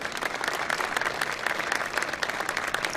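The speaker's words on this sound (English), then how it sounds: "They deserve some applause." A crowd at a port event applauds Marines on the Corps' birthday, with dense, continuous clapping at a steady level from start to finish.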